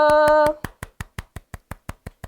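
Rhythmic hand claps at the close of a Catholic priest's Gospel lecture, celebrating prize-draw winners: about a dozen sharp, evenly spaced claps, the first few blended with a sustained musical tone, then alone and steady.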